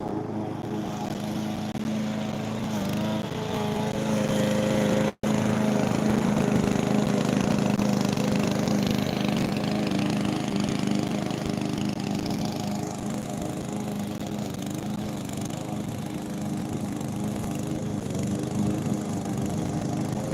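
A lawn mower cutting carpet grass in a garden runs steadily and continuously with a mid-pitched engine drone, with one very brief cut-out partway through.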